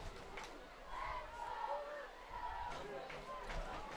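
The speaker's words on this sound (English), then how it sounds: "Now the Rubidoux crowd seems to be really into this one." Rubidoux high school football crowd cheering and yelling in bursts at a night game against La Sierra, distant roaring waves of voices with babble between them.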